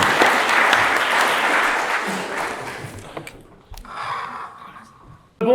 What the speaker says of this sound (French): On applaudit Corinne.